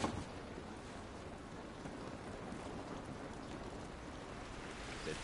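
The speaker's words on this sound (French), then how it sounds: "Cette pluie ne va pas nous aider." Rain in the video game The Last of Us Remastered, a faint, steady patter and hiss of rainfall that continues unbroken, with no voices over it.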